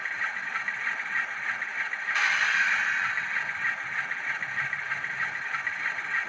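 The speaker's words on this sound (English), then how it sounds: "Function 11 is your air dump." An air dump from a Graham Farish Class 47/4 N gauge model locomotive's DCC sound decoder: a sudden loud hissing rush of released air bursts in about a third of the way through, over a steady mechanical engine hum, then eases back.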